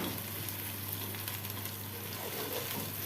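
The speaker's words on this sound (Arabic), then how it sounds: "هنقلبيه بقى حلو كده مع البصل" Peppers stirred together with frying onions in a pan, giving a steady, close sizzle and crackle of hot oil throughout with faint scraping of the spoon and a low background hum.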